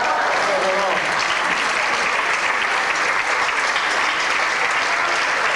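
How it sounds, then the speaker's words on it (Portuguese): A concert audience applauds a soprano at a classical performance, loud continuous clapping filling the hall throughout, with a brief voice at the start. "Os vossos aplausos para a Olga"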